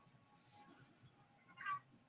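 A house cat meows twice indoors, a soft call followed by a louder, clearer one, against quiet room tone with no talking.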